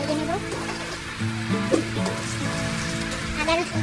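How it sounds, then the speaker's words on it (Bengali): Prawns frying in a pan with chopped onion, giving a dense, continuous sizzle and crackle close by, with a few clinks and soft speech underneath. "চিংড়ি মাছ দিয়ে দিচ্ছি, চিংড়িগুলো ভালো মতো ভেজে নেব"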